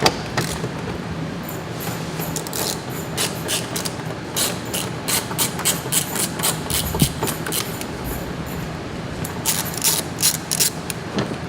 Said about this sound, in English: So we're just going to pull these out and unbolt this bumper right here.